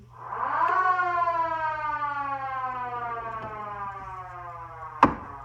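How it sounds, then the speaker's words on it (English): A pipe organ's siren sound effect wails up quickly, then holds a long, slowly falling tone before ending with a sharp click. "Many of the sound effects are also available on pistons in the drawer, like the siren."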